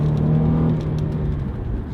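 A Cadillac with 116,000 miles accelerates with a smooth engine hum rising in pitch and settling as it shifts, heard from inside the car at moderate volume under low road rumble.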